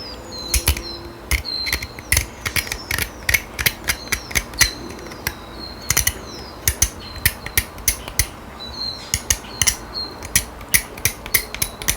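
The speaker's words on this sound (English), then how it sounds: "let's see if I can shave a bit of ice over your head here" Ice shaved by hand right overhead, close up: a long run of crisp, irregular scraping strokes with short pauses between bursts, no talking.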